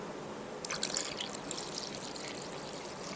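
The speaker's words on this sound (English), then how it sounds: "Now we're going to add our oil and our milk." Oil and milk are poured into a bowl of sandwich bread ingredients, making a soft, faint liquid trickle and splash over a low background hiss for a few seconds.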